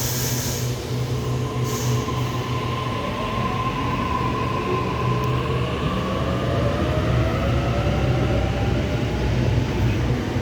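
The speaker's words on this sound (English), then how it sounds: "We have B21 now departing platform number 1" A commuter train pulls out of a suburban station platform, its steady rumble running throughout with rising wheel squeal and metallic tones, loud and close, no voices.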